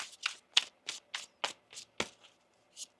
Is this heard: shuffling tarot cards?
yes